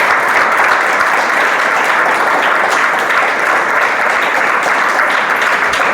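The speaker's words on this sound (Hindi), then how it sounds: "भाई के लिए काका के लिए ताली बजाए" A congregation at a Hindi-language Bible sermon claps steadily for a brother and uncle, a dense, continuous wash of many hands at even loudness throughout, with no talk over it.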